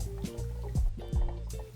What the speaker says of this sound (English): After you've poured in your iced tea, you want to make sure that you stir this.